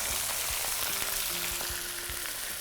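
Onions fry with mutton, cinnamon and bay leaves in a pressure cooker, a steady, close sizzle of hot oil with occasional stirring knocks and a faint tonal hum, with no voices.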